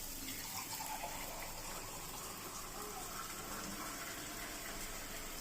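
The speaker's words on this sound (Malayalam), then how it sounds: "വെള്ളം ഒഴിച്ചു കൊടുക്കാം." Water pours steadily into roasted semolina in a pan while rava upma is being made, a soft continuous gushing that stays even and fairly quiet throughout.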